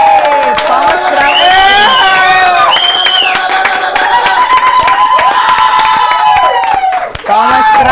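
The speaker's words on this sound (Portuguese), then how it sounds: "Batam palmas." A television studio audience claps and cheers loudly for a guest appearance, with whoops over sustained applause while a presenter's voice rides on top throughout.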